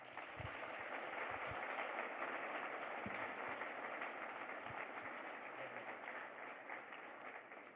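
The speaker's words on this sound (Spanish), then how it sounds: "Le damos un fuerte aplauso." A hall audience at a theological conference gives sustained applause, a dense, fairly distant wash of clapping that holds steady and then slowly fades.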